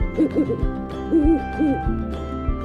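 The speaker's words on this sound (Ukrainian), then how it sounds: "Мама сова, дитинча совоня. Совеня каже у у у" A baby owl gives a run of short, breathy hoots, some quick and some drawn out, heard clearly over a soft, steady musical background.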